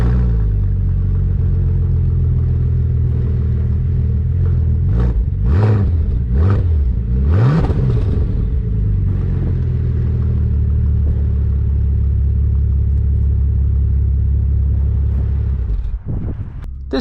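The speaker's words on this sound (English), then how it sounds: "This is powered by a 6-liter twin-turbo W-12 engine, producing 567 horsepower along with 516 pound-feet of torque." A 2012 Bentley Continental GT coupe's 6-liter twin-turbo W-12 engine idles with a deep steady rumble, then blips through several sharp revs that rise and fall before settling back to idle.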